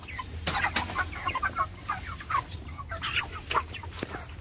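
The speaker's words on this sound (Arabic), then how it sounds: "زي ما انتم شايفين ما شاء الله الفراخ بتاكل فيها حلو جدا" Chickens cluck steadily while pecking at a feed mix meant for weight gain, with several birds making overlapping close clucks and calls in a busy farmyard.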